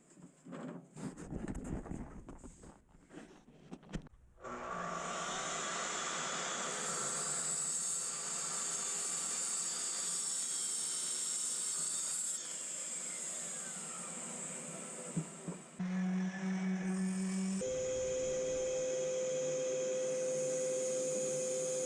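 A track saw cutting wood scraps for craft-show pieces: a few short bangs and handling noises, then a loud, steady motor whine holding for well over fifteen seconds, with brief dips and a pitch shift near the end.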